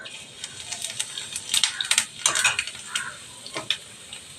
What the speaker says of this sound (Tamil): 1 ஸ்பூனு ஜீரகம் போடுறேன்.